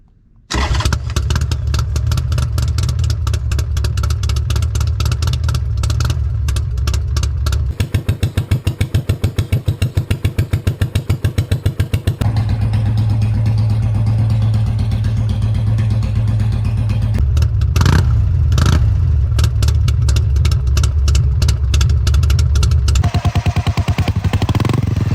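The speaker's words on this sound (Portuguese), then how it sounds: "Vamos escutar o som da XB9S com os 2 cilindros em V e em seguida a Blast 500 que perdeu o cilindro traseiro" A Buell XB9S V-twin idles and revs, then a Blast 500 running on one cylinder and a Classic 500 single-cylinder take turns, each with its own loud, close, thumping exhaust pulse, some steady and some with sharp revs.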